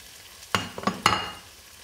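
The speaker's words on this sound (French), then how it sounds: "Je remue délicatement." Shallot and quartered cherry tomatoes frying in hot oil are stirred gently, giving two or three quick scraping, clattering strokes over a soft sizzle, close and brief.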